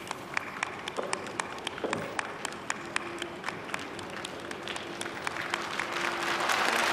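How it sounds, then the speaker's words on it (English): Loud applause rings out in a space mission control room during China's first spacewalk, a dense crackle of many hands clapping steadily throughout, swelling slightly toward the end. "And we can see loud applause from the control."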